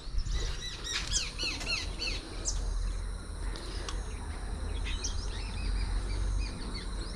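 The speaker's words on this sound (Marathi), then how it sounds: "शांतता, ह्या पक्ष्यांचा आवाज पण तुम्ही अनुभव करू शकता." Birds chirp and trill repeatedly around a bungalow in Dapoli, with bright overlapping calls coming from nearby trees over a steady low outdoor hum.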